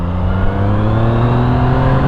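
A 2017 Yamaha MT-09 motorcycle engine revs hard and close, a loud sustained rasping drone that climbs steadily in pitch throughout.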